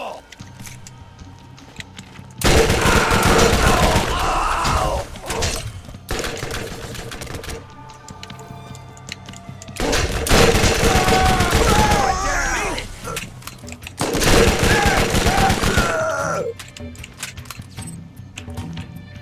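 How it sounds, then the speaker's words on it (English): Bursts of rapid full-auto fire from a para-style sniper rifle in the shooter game Borderlands, coming in three long loud volleys with quieter game sounds between them and no talking. "Don't necessarily need to go for headshots with a full auto sniper rifle"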